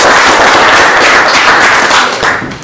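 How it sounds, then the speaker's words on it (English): Loud, dense applause from a magic show audience, steady for about two seconds with clapping filling the room before it starts to thin out. "Have them a nice round of applause."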